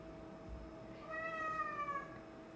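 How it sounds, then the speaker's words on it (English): A house cat meows plaintively from behind a closed door, a single drawn-out, wavering cry of moderate loudness with faint room noise around it and no talking. "You can probably hear the cat in the background."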